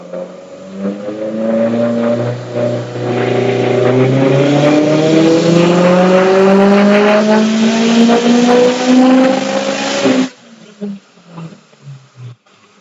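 A Subaru EJ207 engine with Kelford cams and a 20G turbo, drivetrain through a 6-speed differential, gives a loud rising groan and whine for several seconds before cutting off, leaving faint scattered knocks.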